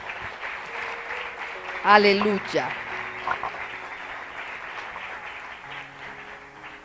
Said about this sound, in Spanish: Dale una ofrenda de aplausos al Señor.